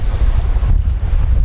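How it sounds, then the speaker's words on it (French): Steady wind roaring across the microphone aboard a sailboat heading up a river toward Norfolk, a dense continuous rush with low buffeting gusts and no voices. "Des rafales à 17. Sinon, vent réel, ça tourne autour de 13 nœuds."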